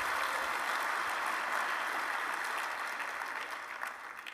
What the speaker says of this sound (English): a round of applause for Mike and the development team and this amazing innovation